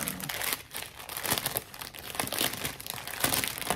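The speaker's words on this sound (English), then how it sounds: "I know that's a lot of crinkling." Packaging is crinkled and handled up close for several seconds, a steady, dense rustle with no talking over it.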